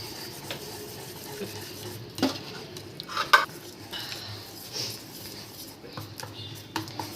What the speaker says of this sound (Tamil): ஸ்ப்ளிட்டரை வச்சு நல்லா கலக்கிப்போம்